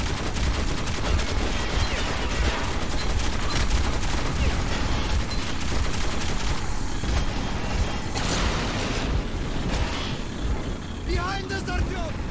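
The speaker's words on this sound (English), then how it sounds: "See where they're shooting from." Gunfire in the post-apocalyptic shooter Metro 2033: a dense, continuous barrage of shots and rumbling noise at steady loudness, with voices talking over the fighting.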